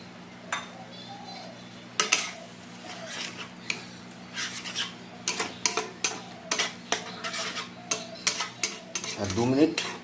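Spoon scraping and stirring in a pan of frying masala as gram-flour water goes in, giving a string of sharp, close clinks and scrapes over a steady low hum.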